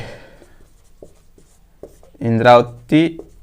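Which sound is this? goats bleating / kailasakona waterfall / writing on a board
writing on a board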